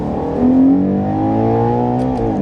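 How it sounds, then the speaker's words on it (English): A 2025 Ferrari Purosangue with a naturally aspirated 725-horsepower engine accelerates under throttle, a loud, smooth rising engine note heard from inside the cabin, climbing steadily in pitch and holding strong for a couple of seconds, with no talking over it. "Let's give it some throttle"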